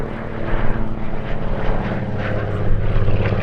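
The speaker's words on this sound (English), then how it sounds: "It's just a beautiful aircraft" A Lockheed Electra Junior propeller aircraft flies past at the Sywell airshow, its engines a steady, loud droning hum that swells slightly as it passes.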